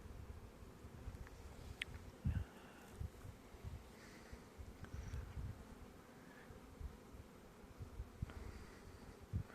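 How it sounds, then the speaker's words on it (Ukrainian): Carniolan honeybees fly around hives at an apiary during a midwinter warm spell, a soft steady buzzing with occasional closer passes over light wind noise. "Тому тут літ бджоли більш інтенсивний."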